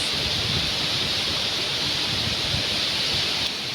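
Steady, loud hiss of heavy rain mixed with strong rushing wind, continuous and unbroken throughout.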